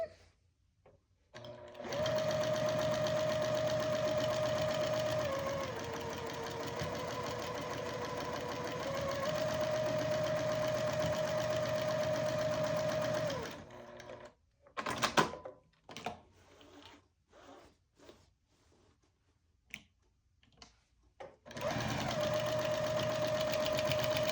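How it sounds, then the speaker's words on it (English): A sewing machine quilting a seam on a quilted mug rug hums steadily and close for a long stretch, pauses for fabric shifting and handling clicks, then starts stitching again. "I'm going to move it over and do the seam on the other side of the center seam"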